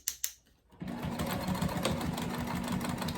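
A sewing machine stitching a cork backpack, a couple of soft taps and then a steady, fast mechanical whirr of stitching that runs close and loud to the end.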